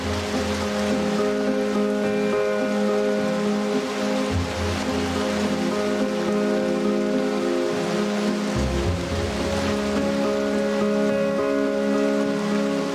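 Steady, dense heavy rain hisses without a break on Christmas Island forest, with a low rumbling undertone throughout.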